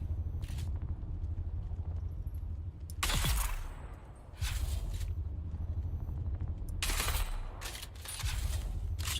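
Gunfire in the video game Dune Awakening: several loud broadband bursts, separate and irregular, over a steady droning game background with no speech.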